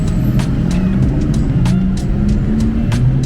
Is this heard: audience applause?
no